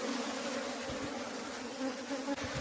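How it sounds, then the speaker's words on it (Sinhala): Bees and wasps swarm in a steady, dense buzz around a hive as a bee colony is collected, a continuous close drone with no pauses from start to finish. "බඹරු වැඩි ප්‍රමාණයක් ඇවිල්ලා තියෙන්නේ"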